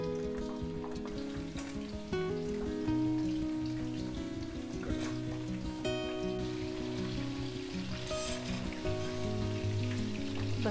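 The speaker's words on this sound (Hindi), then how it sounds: "सारे चिकन को ही फुल फ्राई कर लूंगी" Chicken pieces deep-frying in hot oil for restaurant-style chilli chicken give off a steady, busy crackle of bubbling and spitting that runs the whole time beneath tonal background music.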